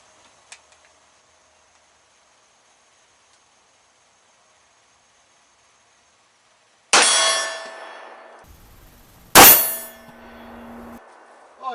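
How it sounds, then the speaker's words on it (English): Two sharp metallic clangs about two seconds apart, each ringing out briefly after a long quiet stretch, like bullets striking a steel target at a distance. "y'all can see and hear the ding off of that thing."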